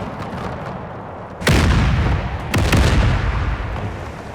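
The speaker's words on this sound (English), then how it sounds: "Could be good at this point if you're ready to fire your gun. Good, canister." An artillery gun fires canister shot in a Franco-Prussian War 1870 video game, with two loud, close booms about a second apart, each followed by a rumbling tail over a low battle background.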